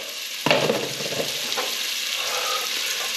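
Garlic hits a hot pan for chicken adobo and sizzles: a sudden loud hiss bursts out, then eases into a steady crackling fry close up, with no voices.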